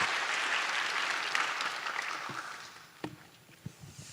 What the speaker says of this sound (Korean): 우리 큰 박수로 나가도록 하겠습니다